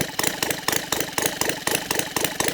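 A Saito 450 model aircraft engine converted to run on gasoline with CH ignition, running steadily with a rapid, regular firing pulse and a loud, close rasp, no voices over it.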